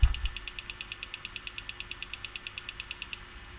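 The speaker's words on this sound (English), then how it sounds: "this clicky noise as it boots up" A retro PC clicks rapidly as it boots, a fast even train of about thirty sharp mechanical ticks at close range that stops abruptly, with a faint steady hum behind it.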